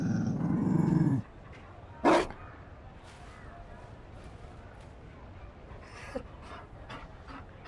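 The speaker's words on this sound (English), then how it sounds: "You found a dog?" A Mabari war dog in a video game growls low and heavily for about a second, then gives a sharp bark-like burst and softer panting, with game dialogue voices around it.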